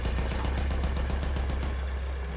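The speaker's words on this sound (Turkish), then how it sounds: "İkincisinde gayet etkili, piyadelere karşı gayet etkili olan bir makineli tüfek var." The hull machine gun of a St. Chamond assault tank in Battlefield 1 fires a rapid, evenly spaced burst of about a dozen sharp shots that stops before the end, leaving a low engine rumble underneath.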